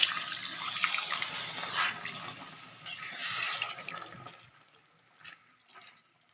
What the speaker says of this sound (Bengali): এবার আমি দিয়ে দিচ্ছি অল্প পরিমাণে জল